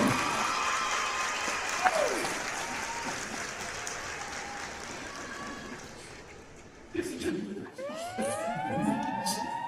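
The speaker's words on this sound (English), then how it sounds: "let's give another round of applause" Audience applause at a Talladega High School athletics press conference, dense clapping for several seconds that thins out, with a siren-like rising and falling tone and some voices near the end.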